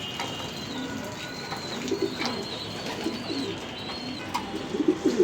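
Racing pigeons coo in a home loft, low throaty rolls repeating close by, with a faint higher tone running in the background.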